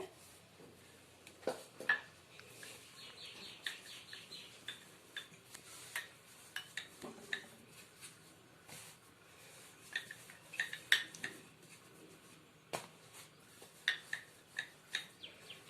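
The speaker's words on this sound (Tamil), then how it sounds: "இந்த கட்டையிலே நம்ம தேய்ச்சிக்கலாம்." Dough for sweet coconut buns being rolled out on a lightly floured wooden board: soft, irregular knocks and light scraping taps recur close by in loose rhythm, with no talking over them.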